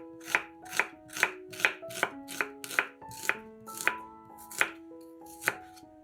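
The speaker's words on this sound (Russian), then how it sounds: "Одну красную луковицу нарезаем полукольцами." A red onion is sliced into half rings on a cutting board, with about a dozen crisp, evenly spaced knife chops ringing out close and clear, no talking.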